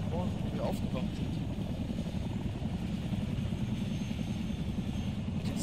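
A helicopter in the video game Arma 3 drones as a steady low rotor and engine rumble throughout, with a voice speaking briefly over it near the start.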